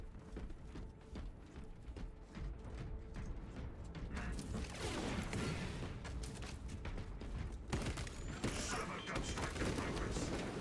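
Turret guns firing in Space Marine 2, scattered shots that build into a heavy sustained volley of booming blasts and mechanical clatter amid battle noise, fairly loud.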